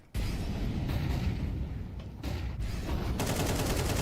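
Sustained AK rifle gunfire in Counter-Strike 2 during a live competitive match, loud rapid bursts running almost continuously with brief gaps, close and dense, no voices over it.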